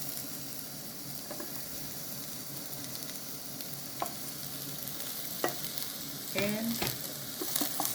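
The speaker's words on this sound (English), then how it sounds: "So I'm gonna add our onions here." Onions fry in a hot pan with a steady, close sizzle and crackle, broken by a few sharp clinks and scrapes of a utensil, and a single short spoken word.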